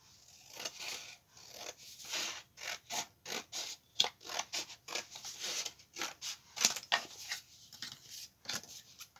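Scissors snip through paper while a fir-tree triangle is cut out for a handmade Christmas card: a close, steady run of short crisp cuts with brief pauses between them, with no talking.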